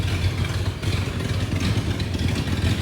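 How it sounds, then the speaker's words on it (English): A 1978 Ford F250 engine idles after being parked for over 20 years, a steady close, low chugging rumble with a faint clattery ticking on top. "At least it idles."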